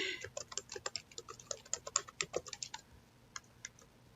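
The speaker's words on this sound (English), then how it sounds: "there's a lot of typing." Rapid clicking keystrokes on a computer keyboard during Microsoft Access data entry, a quick close run of taps that thins out into a few scattered presses.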